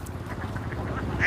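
Ducks on a farm of about four thousand birds housed in a shed over a pond, a continuous close chorus of overlapping quacks with no talk.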